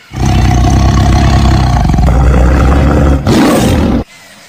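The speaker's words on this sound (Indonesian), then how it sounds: "Wah, ini harimau teman-teman." A tiger gives a loud, sustained deep roar that rumbles steadily for several seconds, then breaks off abruptly.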